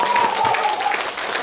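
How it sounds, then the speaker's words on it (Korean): A concert-hall audience at a folk-song fan meeting gives a steady burst of applause, dense and fairly loud throughout, with a held vocal tone or cheer rising over the clapping at first. "서행복 원장님께 박수 한번 보내주세요."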